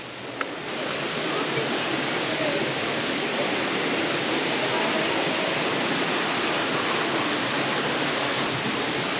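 Waterfall in the hills of Pai, Thailand, a steady broad rushing roar of falling water that stays constant throughout, heard from a distance without talk.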